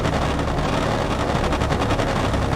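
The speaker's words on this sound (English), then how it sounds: "the rear gunners on the Hudsons have opened up" Rapid, continuous machine gun fire from the rear gunners of Lockheed Hudson bombers in the naval combat game War on the Sea, Java Sea battle, a dense loud rattle filling the whole stretch with no voices.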